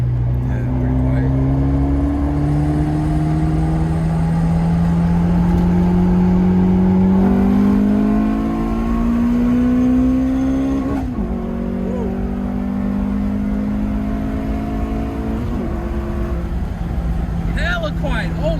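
A Honda car with a DOHC VTEC engine revs, the engine tone climbing steadily in pitch, then a drop and a second climb. The sound is fairly quiet and smooth, with people talking over it.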